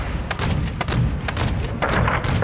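Heavy missile and cannon fire from an AC130 gunship in Call of Duty: Modern Warfare II, a steady run of loud, booming thuds and blasts with no pauses between them.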